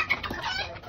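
A shy chicken with colorful feathers gives a brief run of soft clucks, close and fairly clear, with no talk over it.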